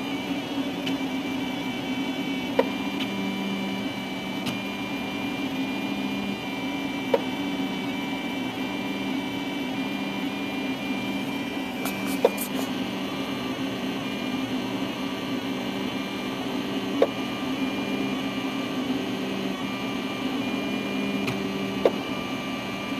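A SeeMeCNC Orion 3D printer running a print, giving a steady whirring hum with faint periodic clicks every few seconds, continuous and fairly quiet with no talk.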